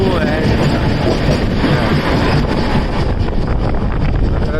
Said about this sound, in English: Oh, it's it's just a small train. Oh, maintenance.